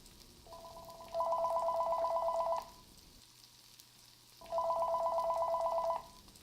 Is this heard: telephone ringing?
yes